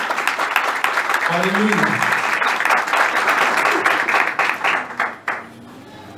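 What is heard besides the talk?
congregation clapping loudly in church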